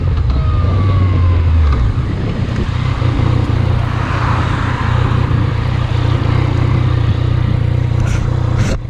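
A car comes up behind a pair of motorcycles, a Yamaha MT-09 2018 and an MT-07, on a road at night, a steady loud engine roar from close by with wind rush throughout.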